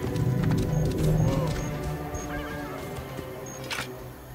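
A horse galloping in Assassin's Creed Origins, set in ancient Egypt: hoofbeats clop along under a busy mix of game sounds, with short bright clicks and chirps scattered throughout, steady and moderately loud.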